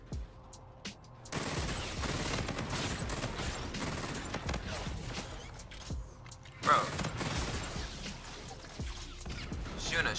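Shotgun fire in Call of Duty: Infinite Warfare: repeated sharp blasts and rattling bursts in a busy firefight, some loud and close, others fainter, with voices in the background.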